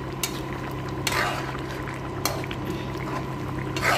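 Creamy shrimp sauce simmers in a pan while being stirred, giving a steady bubbling, sizzling texture with occasional soft scraping strokes, close and moderately loud.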